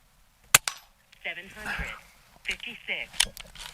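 A Hatsan Jet 2 .22 air pistol fires once at a steel target 20 yards off: a single sharp, loud crack near the start, with a person talking afterward and a few more brief clicks near the end.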